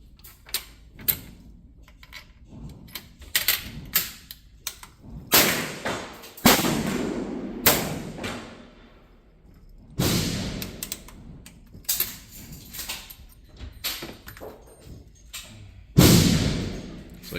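Springfield Trapdoor rifle firing smokeless .45-70 Government loads of pistol powder, several sharp reports spaced a few seconds apart, with voices talking between shots.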